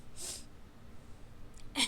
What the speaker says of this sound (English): Oh, the kitty sneezed.